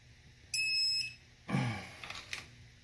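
A short burst of high-pitched electronic beeping from a torque wrench at 65 foot-pounds, a stacked tone lasting about half a second, followed by a clunk and mechanical rattling, during a 350 small-block Chevy engine rebuild.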